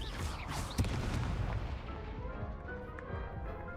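A Confringo fire spell blast in the Hogwarts Legacy video game, a sharp booming impact near the start that rolls off into a fading rumble and crackle, loud and close, no talking.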